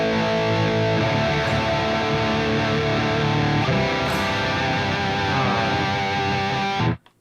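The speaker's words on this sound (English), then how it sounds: "There's my chorus on and off, and my delay on and off, and my reverb on and off." Distorted electric guitar run through an amp simulator with chorus, delay and reverb plays a thick, sustained stream of chords and notes, loud and continuous, then cuts off abruptly near the end.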